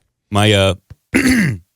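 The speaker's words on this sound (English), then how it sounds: "I'm coughing over here. I'm coughing." Two harsh, voiced throat-clearing coughs close to the mic, separated by a short catch of breath.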